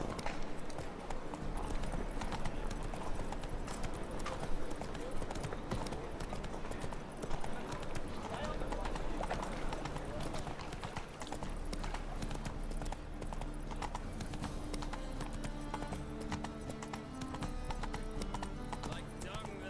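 A horse gallops in The Witcher 3 video game, rapid rhythmic hoofbeats running steadily throughout with game music and brief voices layered over them.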